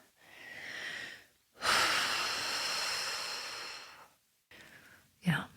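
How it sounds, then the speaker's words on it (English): A speaker draws a long, audible deep breath in and lets it out in a sigh, close to the microphone, with a short rising vocal sound after a pause. "let me take a breath here"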